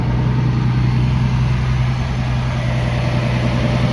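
A truck engine idles in a steady, low droning rumble, unbroken and fairly loud from start to finish, with no talking.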